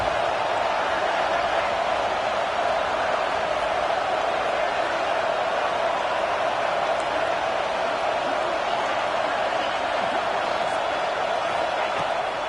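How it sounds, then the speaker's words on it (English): A stadium crowd in the College Football 26 video game roars on third down at Saban Field during an Alabama Crimson Tide home game. The sound is a sustained, even wall of crowd noise. "The Tide crowd rolling noise down on the Saban field on 3rd down."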